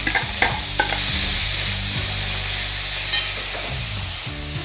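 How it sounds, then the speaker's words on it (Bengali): Boiled kulekhara greens stir-fried with garlic and chilli in hot oil, a steady loud sizzle with repeated scraping spatula strokes throughout, no voices. "এবার আমি সেদ্ধ করে রাখা শাকগুলো দিয়ে ভালো করে ভেজে নেব"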